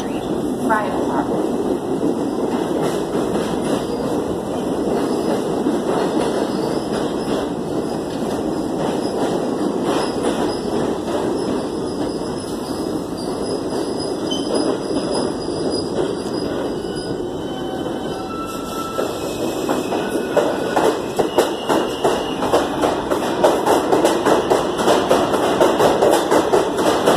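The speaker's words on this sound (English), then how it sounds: "Eastbound F local train" Eastbound New York subway F local train at 34 Street–Herald Square station, a steady loud rumble of rolling cars with metallic wheel squeal and rattling that builds toward the end, with faint voices in the background.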